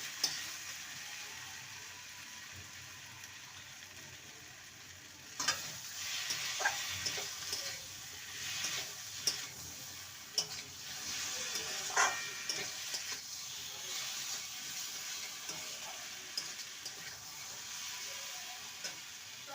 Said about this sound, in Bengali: সর্ষে পোস্ত দিয়ে দু মিনিট কষিয়ে নিয়েছি